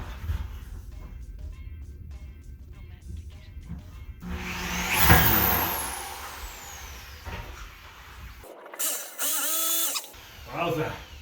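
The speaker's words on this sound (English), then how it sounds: "Heavy drill." A heavy power drill whirs loudly in a sustained burst, then short spurts of drilling follow, with background rumble and brief pauses between.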